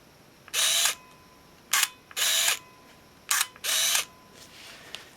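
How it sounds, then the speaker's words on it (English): Yashica T3 compact camera with its lens motor whirring out and back and the shutter firing, several short buzzing mechanical bursts interleaved with brief clicks, close and quiet between. "And we can watch here as the lens moves and the shutter operates."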